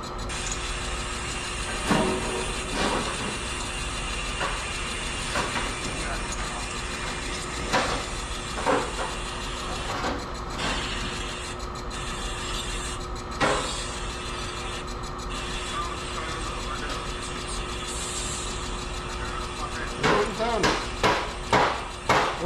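A cutter machine running at speed setting 27 gives a steady mechanical hum and whir with repeated knocks and clunks, close by, with occasional voices in the background.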